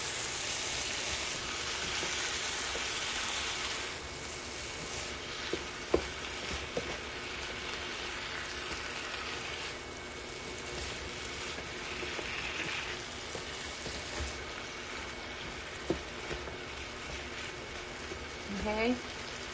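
Beef fat sautéing in a pan for a Lancashire hotpot gives a steady, even frying hiss that runs the whole time, broken by a few faint stirring clicks, moderately quiet and close.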